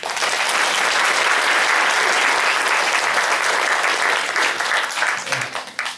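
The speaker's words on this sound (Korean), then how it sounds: "박수 부탁드립니다" Guests at a school graduation ceremony clapping loudly in a hall, a thick, continuous burst of applause that holds steady and tapers slightly at the close.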